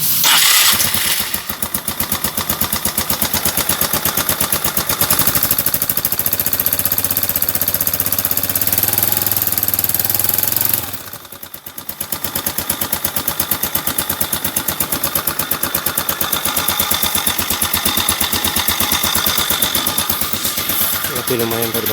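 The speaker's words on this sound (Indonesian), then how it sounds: "Ini pertama kali mesin dinyalakan." A motorcycle engine running on Federal Ultratec 20W50 oil starts up and settles into a loud, steady idle with rapid pulsing, briefly dropping out before running on evenly.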